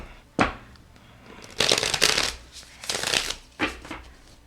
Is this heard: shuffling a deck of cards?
yes